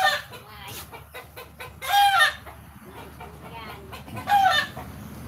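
A hen at a rural Bicol province yard gives a few loud, close clucks and squawks in short bursts, with quieter murmuring calls and faint background noise between them.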